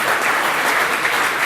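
Audience at the SAPSA 2018 awards event bursts into loud, dense applause, a continuous roar of clapping for the whole short stretch.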